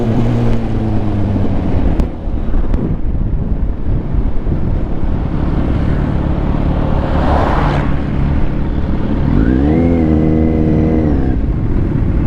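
A vehicle drives along the Aguinaldo Highway with loud, steady road and engine rumble and wind buffeting the microphone throughout, and another engine rises in pitch as it revs near the end; no speech.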